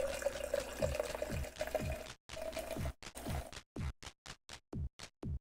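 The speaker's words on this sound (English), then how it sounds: "Pouring myself some heavy alcohol." Heavy alcohol poured into a glass, first a steady close trickle, then a series of short separate glugs and splashes as the pour stops and restarts, fairly quiet.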